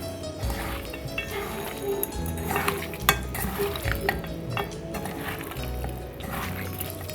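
Pigeon meat being mixed and squished by hand with oil, onion and ginger-garlic paste in a bowl, producing steady wet squelching and slapping sounds with occasional clinks against the dish, close up.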